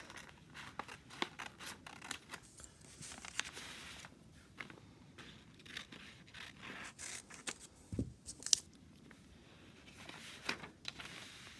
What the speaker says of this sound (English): Then I'll just cut those new lines.